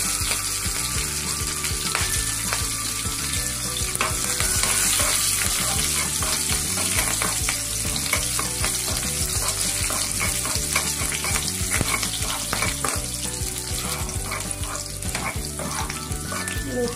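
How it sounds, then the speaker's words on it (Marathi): Fenugreek seeds, cumin and chopped green chillies crackle and sizzle in hot oil in a kadhai while a peanut chutney is being made. The popping stays dense and continuous throughout, close up, with no talking. "मेथी चांगली तडतडली"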